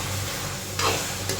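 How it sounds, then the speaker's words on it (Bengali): A spice paste for taro curry is being sautéed in a pan, giving a soft sizzle with a couple of brief scraping stirs. "এই যে এখানে কচু বসায় দেওয়ার জন্য যে মশলা কষায় নেওয়া হইতেছে"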